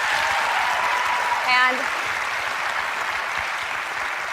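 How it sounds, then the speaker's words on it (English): A studio audience claps for Jane, a sustained, even round of applause with a brief voice breaking in partway through. "They're clapping her, aren't they, really?"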